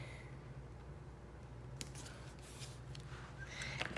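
Scissors cutting paper for a Christmas window card, a few short snipping crunches near the end over a steady low hum, close and fairly quiet.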